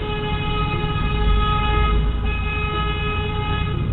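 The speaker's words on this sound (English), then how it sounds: "every single one of them was driving by honking the horn" A sustained, steady horn tone from a vehicle driving past, loud and continuous with a low engine rumble underneath and no talk.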